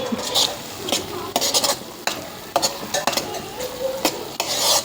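A spoon stirs and scrapes through mutton frying in oil in a pan in a North Karnataka home kitchen, with repeated close scraping strokes over a steady sizzle and no talking.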